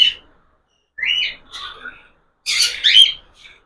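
Several pet cockatiels squawk and chirp in short close bursts, with a louder cluster of harsh calls toward the end and quiet gaps between.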